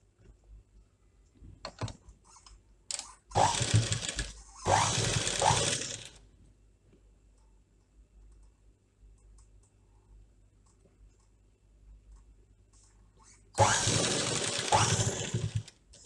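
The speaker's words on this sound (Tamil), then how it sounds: "மாதிரியே இப்போ இதையும் தைச்சிக்கலாம்." A sewing machine stitches a double-layer cloth face mask in several bursts of rapid whirring, separated by quiet pauses, close and fairly loud.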